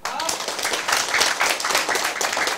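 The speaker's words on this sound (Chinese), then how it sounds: "咱来替咱家己拍手啦" An audience at a political lecture claps in a dense, continuous burst of applause, loud and close, while a voice talks over it.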